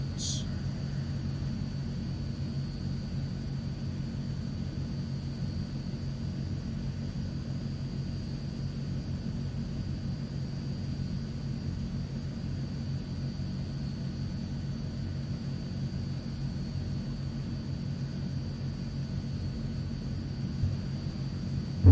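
A Transall C160 military transport aircraft taxiing in a flight simulator gives a constant low engine rumble and drone from start to finish, steady and fairly loud, with a faint high whine above it and no clear talk.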